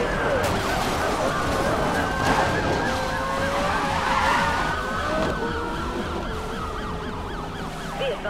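Police sirens in Need for Speed Most Wanted (2012) during a high-heat chase: several wailing sirens overlap continuously and loudly over roaring car engines and tire noise.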